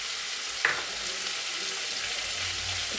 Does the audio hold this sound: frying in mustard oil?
yes